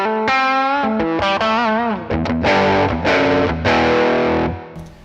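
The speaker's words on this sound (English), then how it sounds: "when I play some low notes here" An electric guitar, played for a cryo tuning test, plays low notes and chords through effects, loud and sustained, with distinct notes changing across the passage and no talking.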